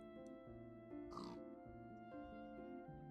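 Quiet video game ambience with a low hum, broken by a few soft pig grunts and oinks, faint and a little distant.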